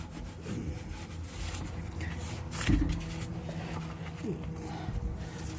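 Rusty exhaust clamps on a Lexus RX 350 being sanded give a steady, close scraping rasp that runs the whole time, with a brief louder scuff partway through.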